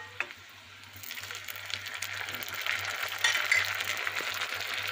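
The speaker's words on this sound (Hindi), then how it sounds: "मैं इसको भून लूँगी थोड़ा सा" Onion, crushed garlic and tomato frying together in a pan, a moderate close sizzle that builds and thickens after the first second, with a low steady hum underneath and no speech.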